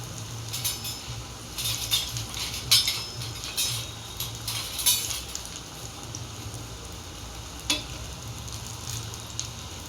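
Spoon scooping batter-coated cauliflower pakoras out of gram flour batter into hot frying oil, with a steady sizzle underneath and scattered light metallic clinks and scrapes throughout, fairly close and moderate in level.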